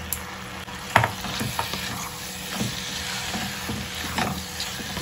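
Small pieces of boneless chicken fry with masala and yogurt over a full flame, a continuous sizzle punctuated by scattered stirring scrapes and taps, fairly close.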